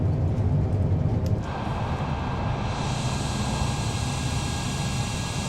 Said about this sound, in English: You can hear the power and the roar of those engines.